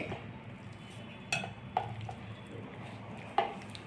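Spoon scraping and clinking in a bowl while ragi flour batter is mixed with buttermilk, soft swishing broken by three or four sharp knocks against the side.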